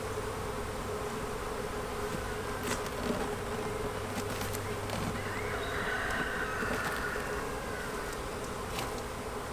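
Honeybees buzz steadily around an open hive that holds two queens, a dense, continuous insect drone close by with a few brief louder passes, and no voices.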